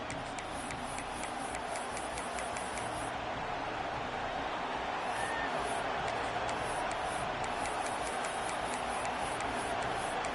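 Stadium crowd in College Football 26 during an Arkansas vs LSU game, a steady wash of distant cheering and roar under commentary, with faint rhythmic ticking above it.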